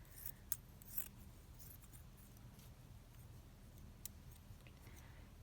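Scissors snip through soft net and other craft scraps, a few sharp close cuts near the start followed by quieter intermittent snips and light handling rustle.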